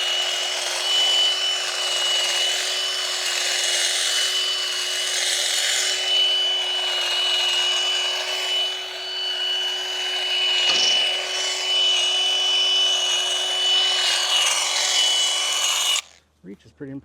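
A Milwaukee cordless handheld pruner trims dappled willow branches, giving a continuous high motor whine with shifting pitch that stays close and loud for about sixteen seconds before cutting off abruptly.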